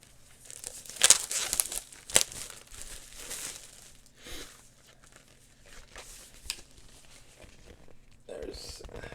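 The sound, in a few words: plastic wrap crinkling while opening a vinyl record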